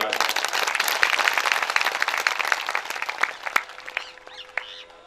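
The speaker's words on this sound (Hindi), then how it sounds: "एक बार जोरदार तालियां।" Audience applause at a Shrimad Bhagavat Katha religious discourse in Rishikesh, a dense burst of many hands clapping that thins out toward the end, with a few birds chirping nearby.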